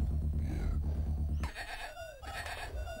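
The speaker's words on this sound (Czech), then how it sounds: "Zatím nevidím, ale slyším ovci." Sheep bleating inside the Amiga strategy game Powermonger, a few wavering calls over a steady game soundtrack, moderately loud.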